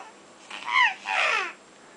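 A child imitates a crow with two drawn-out, nasal caw calls in a row, close and fairly quiet, with no other sounds.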